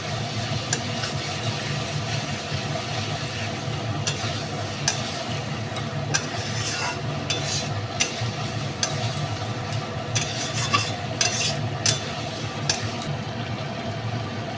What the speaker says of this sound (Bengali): চিংড়ি মাছটা দিয়ে বন্ধুরা আমি আবার একটু ভালো করে নাড়িয়ে নেব।